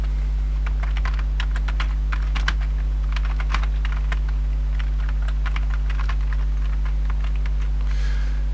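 Steady, close typing on a computer keyboard as login details are entered, a run of quick key clicks over a constant low electrical hum, with no one speaking.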